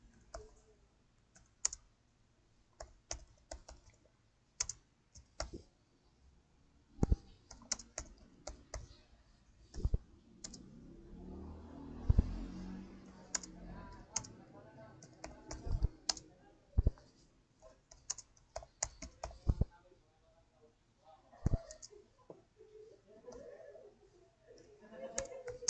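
Computer keyboard keys clicked in short bursts while an address is typed into a tax filing form, close and fairly quiet, with irregular pauses and brief low talk in the middle.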